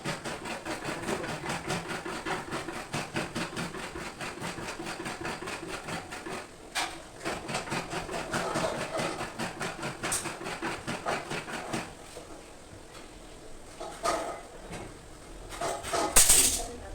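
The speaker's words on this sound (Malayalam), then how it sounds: "ഞാൻ ഇളക്കി കൊടുക്കട്ടെ." A coconut-shell ladle stirs cooked wheat in a pressure cooker pot, making a steady run of quick scraping clacks against the metal that fade toward the end, with a few louder knocks.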